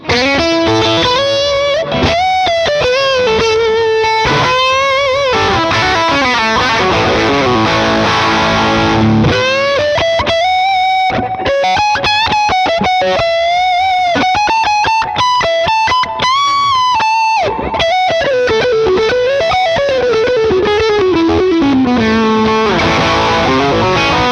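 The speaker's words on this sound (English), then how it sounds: "I would probably kick in a sort of a tube screamer type pedal. I have the Maxon Apex 808" Electric guitar runs through a Sleep Champion Horse Cult pedal stacked with a Maxon Apex 808 overdrive, playing a continuous loud, saturated lead line with sustained bends and quick runs and no pauses.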